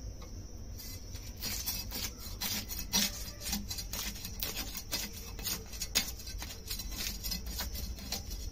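A knife cuts open a roe-filled fish from the Sundarbans with quiet, repeated rasping and scraping strokes. The sound is soft and close, with no talking.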